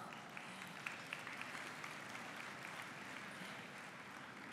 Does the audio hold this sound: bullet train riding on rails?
no